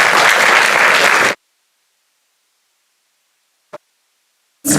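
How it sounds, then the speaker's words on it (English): Audience applause at the inauguration of a business school's ethics centre, a loud dense burst that stops abruptly, followed by silence, a single short tap, and a fresh burst of clapping at the end. "Can we please have a huge round of applause"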